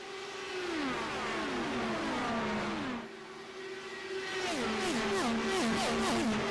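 Indy 500 race cars roar around the track, their high engine notes climbing and dropping sharply through gear shifts as several cars pass, loud and continuous, with a brief dip before more cars scream by.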